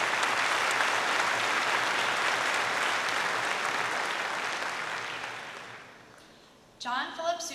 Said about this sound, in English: Please give another round of applause for our sixth through eighth grade winners.